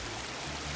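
Mountain stream flowing beside the Tahoe Rim Trail, a steady close rush and babble of water, heard alone in a brief moment.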